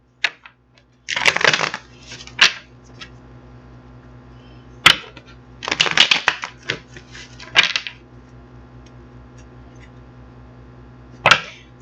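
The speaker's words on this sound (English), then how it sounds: "So we're going to get these cards out, get them shuffled" Tarot cards being shuffled, heard as several bursts of crisp riffling and slapping with quiet gaps between them, close by.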